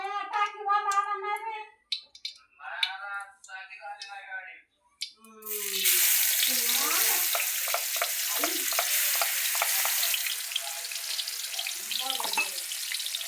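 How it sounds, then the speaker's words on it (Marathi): A voice talks briefly, then oil poured into a hot kadhai breaks into a loud, continuous sizzle for a ridge gourd curry tempering, with a few light metal clinks over the hiss. "बघू शकता तेल टाकते."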